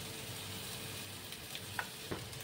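Cooked rice goes into a pan of fried onion and garlic spiced with turmeric and Kashmiri chilli powder, making a soft, steady sizzle with a few faint stirring clicks, close but quiet.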